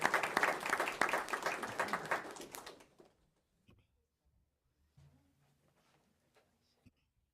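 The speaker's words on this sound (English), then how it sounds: "give them one more round of applause for Technology Student Association" Applause at a school board meeting honoring a Technology Student Association chapter: a dense round of clapping for about three seconds that stops abruptly, leaving near silence with a few faint knocks.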